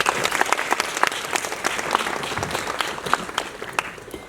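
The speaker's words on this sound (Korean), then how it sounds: "큰 박수로 맞이해주세요." A cinema audience at a post-screening talk in Apgujeong applauds as actress Im Soo-jung arrives, steady dense clapping throughout, close and lively with a few louder claps.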